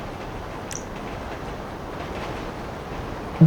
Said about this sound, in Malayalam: ഓടുന്ന ട്രെയിൻ